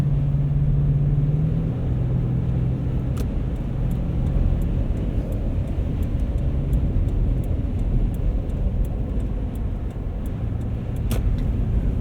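Lexus GX 460 on Cooper Discoverer AT3 4S all-terrain tires cruising a winter highway over ruts, a steady loud road and engine rumble with tire roar throughout and occasional light thumps.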